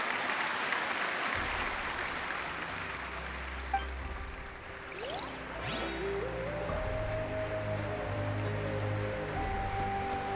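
Crowd applause at a parade in the video game Genshin Impact: sustained clapping throughout, joined partway by sweeping game sound effects and rising musical tones, with no voices over it.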